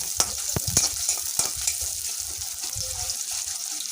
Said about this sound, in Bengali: পেঁয়াজগুলোকে একটু ভেজে নিব